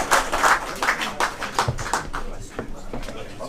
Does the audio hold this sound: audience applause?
yes